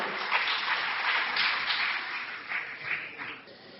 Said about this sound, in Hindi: मैं आप सबसे आग्रह करूंगा कि तालियों की गड़गड़ाहट से उनका स्वागत करें।